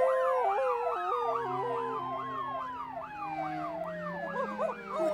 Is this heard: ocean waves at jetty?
no